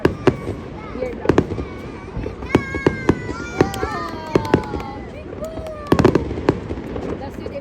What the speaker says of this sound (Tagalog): I want more fireworks.